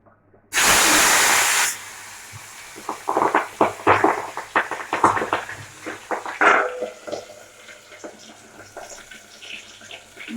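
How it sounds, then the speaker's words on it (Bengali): Pabda fish rubbed with turmeric and salt frying in hot oil: a loud burst of hiss as the fish go in, settling into steady crackling and popping sizzle that carries on close by without talk. "মাছগুলো আমরা ভেজে নিই"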